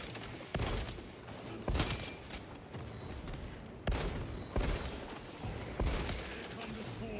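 Bolter gunfire in the video game Space Marine 2 comes as a series of sharp, heavy shots spaced about a second apart, moderately loud against quieter game ambience, with no talking.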